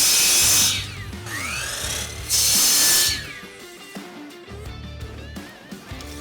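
A power tool cuts a small piece of scrap walnut, half inch by three-eighths, in bursts of loud, close whining and grinding with mechanical rattles between cuts and no talking.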